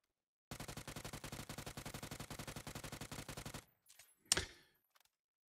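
A rapid, evenly spaced burst of automatic gunfire in the video game PUBG rattles for about three seconds, then stops, followed by a few metallic clicks and a sharp clack.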